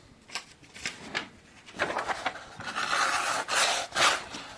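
A handheld rotary engraver grinding along a long knife blade gives short, repeated raspy bursts of high-pitched abrasive scraping, close and fairly quiet, with brief pauses between passes.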